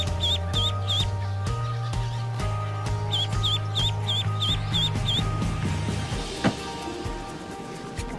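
An oiled duckling gives high, repeated peeping quacks in two quick bursts, three calls and then about six, close and clear over a steady low mechanical hum, followed by a sharp knock and a quieter stretch.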